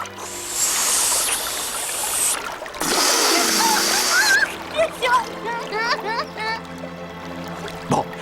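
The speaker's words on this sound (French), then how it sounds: "Les éléphants aussi adorent éclabousser." Bursts of heavy splashing and pouring water, loud and close, come in two surges, followed by excited voices talking over lighter dripping.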